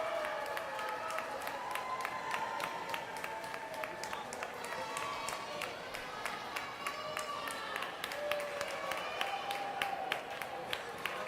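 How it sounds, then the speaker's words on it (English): A large crowd at an Olympic swimming race in an indoor aquatics arena cheers and applauds steadily, with a dense, continuous roar and clapping that carries on without a break throughout. "She watches the crowd cheering for her."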